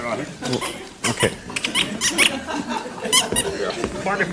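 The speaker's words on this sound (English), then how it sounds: "Got a bit of a squeaky chair." A chair squeaks repeatedly in short high creaks as someone shifts on it at an awards event, mixed with people talking and reacting nearby.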